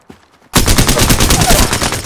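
Automatic gunfire bursts out in Apex Legends after a brief quiet moment, a loud, fast run of rapid shots that keeps going to the end.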